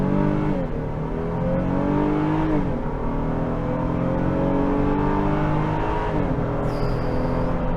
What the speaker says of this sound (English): a lot of engine noise.